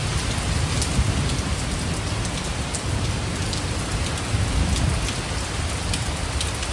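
Heavy Kalbaishakhi storm rain pours steadily onto surfaces with a dense, loud, continuous patter, and gusting wind rumbles underneath throughout.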